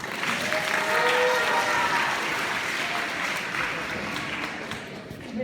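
Crowd at a high school sports banquet clapping in a sustained round of applause, with some voices and faint tonal sounds mixed underneath the steady clatter of hands.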